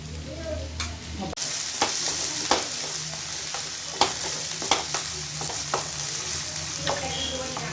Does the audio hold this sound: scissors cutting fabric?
no